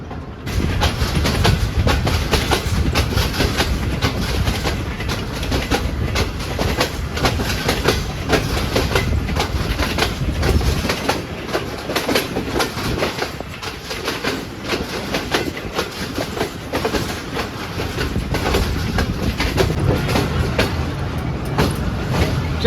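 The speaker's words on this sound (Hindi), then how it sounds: "तो ये लेफ़्ट हो चुका है जी नारोवाल जंक्शन इलामा इकबाल एक्सप्रेस 10 डाउन" Allama Iqbal Express 10DN passenger train pulling out of Narowal Junction, heard from inside an AC standard coach: a loud, steady rumble with continuous wheel clatter and rattling that runs throughout.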